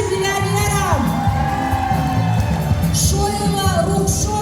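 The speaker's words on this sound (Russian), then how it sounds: "Да-да-да, аплодисменты. Кто будет громче аплодировать," A crowd at a staged prize-giving event cheers, whoops and shouts loudly and continuously, with voices rising over music and a dense din of noise.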